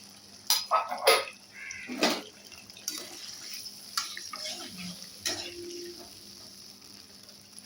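Water from soaked pea-lentil fritters being poured into a pan of spiced gravy with ginger paste, a few short splashy pours and clinks of a utensil against the pan, up close with no talk.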